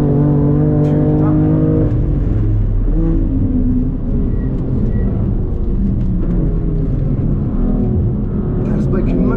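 Race cars running on the Nürburgring, including a McLaren 720S, with a loud, continuous engine roar and shifting tones throughout, mixed with talk.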